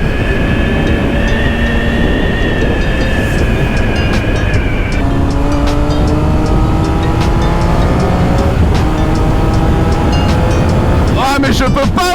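Triumph Speed Triple 1050 RS motorcycle being ridden, its engine droning loud and constant under heavy wind roar, the pitch dropping as the quickshifter snaps through gear changes.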